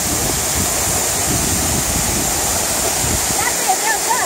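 Waterfall at Cachoeira do Serrado in the cerrado of Porteirinha, Minas Gerais, pours in a steady, loud, broadband rush of falling water that never lets up, with faint voices mixed beneath it.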